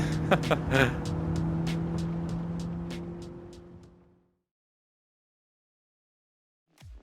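In Gran Turismo 7 played on PSVR2, a car engine hums with a steady tone that drops in level and fades to silence after about four seconds, and a faint sound returns at the very end.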